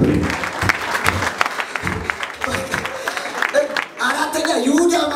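A church congregation breaks into applause in a worship hall, clapping mixed with voices and shouts, rising and falling over a few seconds, with a speaker's voice carrying on the sound system at times.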